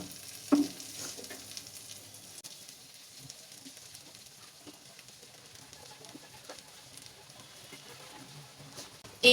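Maggi noodles stirred in a pan over low heat give a soft, steady sizzle with light scraping and patter, faint and close, no talking.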